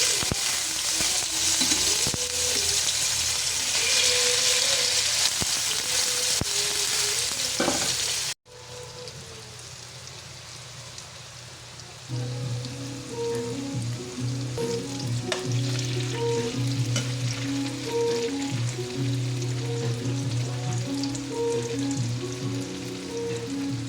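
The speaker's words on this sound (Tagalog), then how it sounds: "Pa-fry muna natin ating tokwa." Tofu frying in hot oil, a loud bright sizzle at first, then a brief drop before a steadier crackling fry with occasional stirring, no voices.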